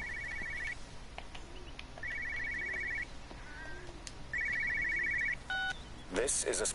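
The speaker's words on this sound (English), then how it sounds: "I hear a phone ringing." Old-style telephone bell in a quiet village in Everybody's Gone to the Rapture rings in three separate bursts, each a bright rapid trill with pauses between. Near the end comes a louder electronic tone, and no one speaks.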